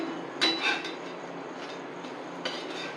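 A kuthiraivali (barnyard millet) dosa is flipped on a pan: a couple of soft metallic scrapes and clinks of a spatula over a steady stovetop hiss, fairly quiet and close.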